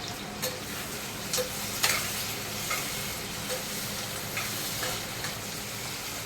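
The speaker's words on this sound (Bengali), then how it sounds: "আমার হচ্ছে ডাঁটা আর কড়াইশুঁটি এটা মোটামুটি ভাজা হয়ে গেছে" Drumsticks and green peas fry in a pan with a steady, even sizzle, broken by a few soft scraping stirs, and no voices.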